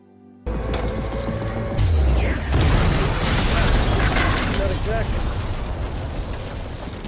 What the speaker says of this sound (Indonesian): Resnick melemparkan granat hingga ruangan itu meledak.